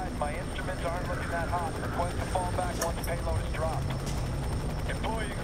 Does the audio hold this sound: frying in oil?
no